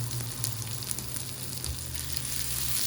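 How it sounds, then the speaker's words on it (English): Onions and chorizo sauté in a pan with a steady, close sizzle and crackle that holds even for the full three seconds, with no talking. "saute it up real quick"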